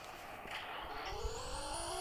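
Car engine in the Roblox driving game, a steady mid-level hum with a faint rising whine running throughout and a brief bump near the middle, with no talk over it.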